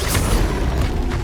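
Bombarda blasting spell in Hogwarts Legacy, a loud low boom with a brief crackling burst that rumbles and decays over about a second.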